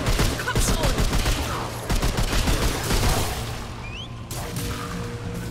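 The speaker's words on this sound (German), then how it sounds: "Irgendjemand hat wieder auf mich geschossen" Gunfire aimed at the player in the video game Remnant 2: rapid bursts of loud, crackling shots in dense clusters, sharp repeated cracks with brief gaps, close and continuous, with faint voices beneath.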